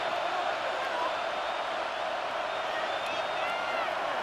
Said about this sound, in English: The crowd at Arrowhead roaring.